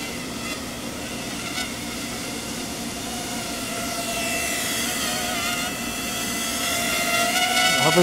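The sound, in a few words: FPV mini quadcopter drone hovering, propellers loud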